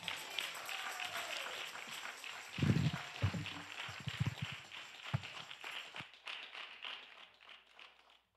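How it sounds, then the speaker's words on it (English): A church congregation at a Sunday service claps for the children, a soft, sustained patter of many hands that swells briefly midway, then thins and fades out, heard faintly from a distance. "Can we give our babies another round of applause?"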